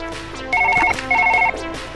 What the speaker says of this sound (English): Got the phone ringing